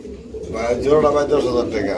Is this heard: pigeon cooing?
yes